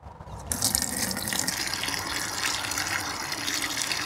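Rainwater runs and gushes steadily from a tap or hose for washing down after handling seals, a continuous close splashing flow that starts abruptly after a brief quiet moment and continues alone.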